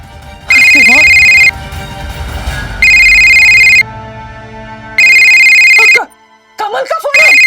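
A telephone rings in three long electronic bursts separated by pauses, loud and close, with a voice speaking in the gaps and just after the last ring.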